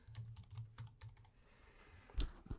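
Computer keyboard keys clatter in quick bursts as a name is typed into a list on a legislative website, followed after a pause by a louder single click, near and clear with no talking.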